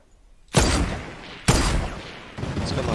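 Three loud, sharp broadband blasts from a video game turret, spaced roughly a second apart, each trailing off into a rumbling decay with no talk over them.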